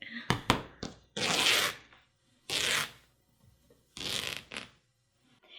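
T-shirt fabric ripped by hand into yarn strips, three or four sharp tearing bursts with quiet pauses and small handling rustles between, close by.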